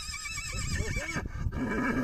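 A Percheron horse neighs in a farm setting, a loud, close whinny with wavering pitch running through most of the moment, followed by a shorter second call and low background rumble.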